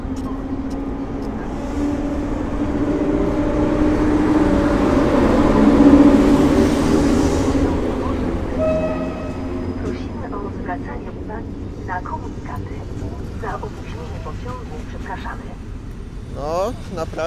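A train pulls out of Warszawa Zachodnia station at night. A steady rumble and hum swell to a broad roar and then ease, and a voice speaks over the fading noise near the end.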